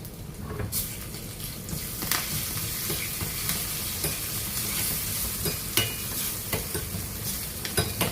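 Curry leaves and crushed dried chilli fry in a pan for an Angamaly-style long bean curry, a busy crackling sizzle broken by repeated scraping stirs of a spoon, close and fairly loud.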